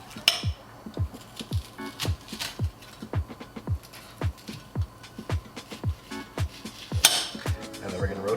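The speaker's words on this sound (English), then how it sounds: "we're gonna see if the onion chopping trick works with a butter knife." A butter knife chopping an onion on a cutting board gives a steady series of about fourteen dull, evenly spaced knocks, close and moderately loud, with faint kitchen hum between them.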